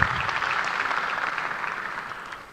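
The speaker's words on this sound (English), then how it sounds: "A round of applause again for them." Audience applause for presenters at a venture capital pitch competition finale, a steady wash of clapping that fades gently over a couple of seconds.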